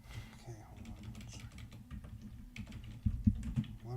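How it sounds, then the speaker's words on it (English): Computer keyboard typing during an online party game session, a steady run of soft key clicks with a few louder taps near the end, fairly close and quiet against faint room noise. "I'm typing up the answers."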